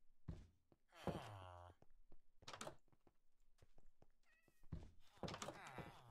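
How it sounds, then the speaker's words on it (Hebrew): Cats meowing in the Minecraft video game, several short mewing calls scattered through the clip alongside thumps and other game noises, fairly close and clear. "זה מוזר לי לשמוע חתולים"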